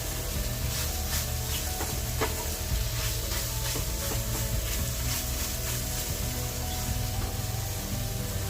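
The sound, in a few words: stirring scrambled eggs in a pan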